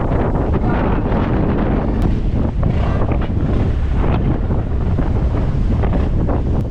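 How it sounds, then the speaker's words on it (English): A sea storm with big waves and strong wind, a loud, constant roar of gusting wind buffeting the microphone over crashing surf, close and unbroken with no talk. "This is the first time I have faced a storm in the middle of the sea, with big waves and strong winds like this."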